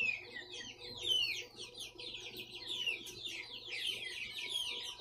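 Indian Giant, Jersey Giant and Brahma chickens cluck and chirp continuously in a coop, a busy overlapping chorus of high calls heard fairly close over a low background hum.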